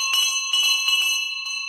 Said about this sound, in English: The doorbell went.